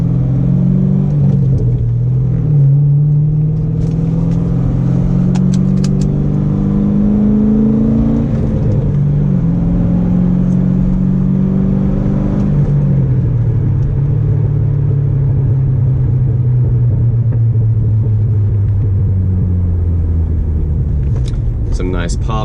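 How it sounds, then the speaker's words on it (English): A C6 Corvette with an SLP exhaust rumbles from inside the cabin as it decelerates in fourth gear and drops into third. The engine drone swoops down and up in pitch, with a few sharp exhaust pops near the middle and the end. "Some nice pops in fourth gear, decelerating and back into third."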